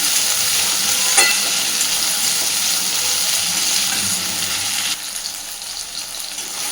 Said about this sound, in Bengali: পেঁয়াজ টমেটো কাঁচা লঙ্কা সবটাই বেশ খানিকক্ষণ ভেজে নিয়েছি।